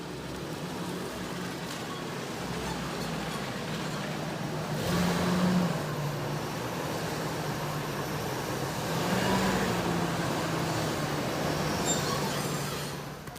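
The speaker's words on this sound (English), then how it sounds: "So what we'll do now is we'll pull the truck in here" A 1998 Ford Expedition truck rolls slowly into a garage, its engine holding a steady low drone with a broadband road-like rumble that swells twice and then eases, with no talking.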